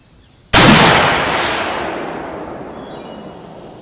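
Single close, loud gunshot from a Sedgely Krag .30-40 rifle firing vintage Winchester Western Silver Tip ammunition, a sharp crack followed by a long rolling echo that fades over about three seconds.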